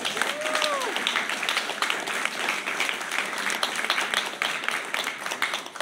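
An audience at an outdoor wild food cooking demonstration claps for the servers, a sustained burst of many hands with scattered cheers, and a short whistle-like tone rises near the start.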